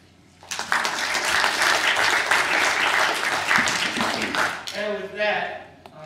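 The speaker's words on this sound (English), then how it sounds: "I think they've earned a little round of applause" A room of people gives board members a round of applause at a presentation, dense close clapping that starts abruptly, holds steady for about four seconds, then fades as a voice begins speaking.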